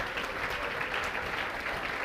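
An audience claps to welcome a visiting teacher from Prayagraj at a class event, a short, even stretch of continuous applause heard at moderate distance with no voices.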